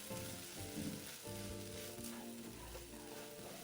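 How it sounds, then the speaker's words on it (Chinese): Yam bean is stir-fried with pepper, sugar, salt and oyster sauce, giving a steady close sizzle with soft stirring scrapes and a low, humming background. "接着再将所有调味料与沙葛一起拌炒均匀"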